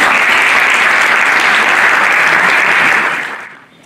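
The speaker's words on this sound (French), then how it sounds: "sous vos applaudissements" A large conference audience claps in dense, sustained applause that fades out toward the end.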